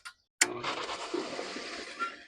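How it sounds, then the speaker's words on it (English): Dirty backwash water from a DE pool filter surges through a push-pull valve: a sudden loud whoosh after a brief quiet, settling into a steady rushing, gurgling flow. "we've started the first round of backwashing"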